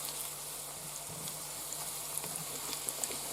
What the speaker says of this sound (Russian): И вот поставили лук жариться.